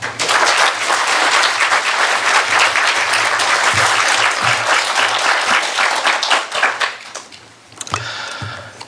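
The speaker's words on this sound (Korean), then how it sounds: "목사님 나오실 때 뜨거운 박수로 환영해 주시면" Warm, sustained applause from a church congregation welcoming a pastor to the pulpit for a Sunday sermon, dense and steady for about seven seconds before thinning into scattered claps and fading.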